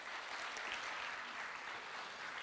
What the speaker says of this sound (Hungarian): most tapsoljuk meg őket